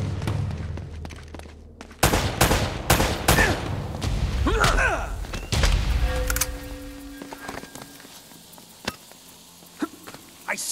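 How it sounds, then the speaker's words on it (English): Enemy gunfire in Uncharted: Drake's Fortune comes as bursts of sharp shots, loud and close for a few seconds, then thins out to scattered single cracks over a quieter ambience with a faint buzzing tone. "They're shooting at you too, you know."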